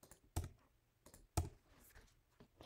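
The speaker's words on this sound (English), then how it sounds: "all you have to do is click in the cell and hit the delete key" Keys on a computer keyboard, including the delete key, pressed in a quiet setting: two crisp, distinct clicks about a second apart, with softer taps between and after them.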